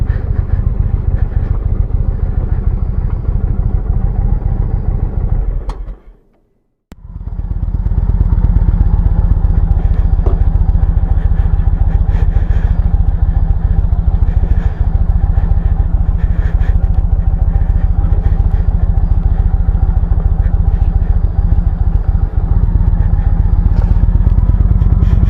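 A motorcycle rides past an Oregon Trail ghost town, its engine a loud, steady mid-pitched drone that drops to near silence for a moment, then resumes strong and continuous, close and with no talking.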